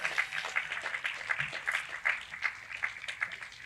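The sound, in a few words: audience applauding the Hazelwood East Band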